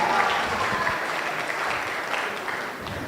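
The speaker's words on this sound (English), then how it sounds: "I think they deserve a heartier round of applause for that" Audience at a Govardhan Puja temple celebration gives a hearty round of applause, a dense, continuous patter of clapping that stays steady throughout.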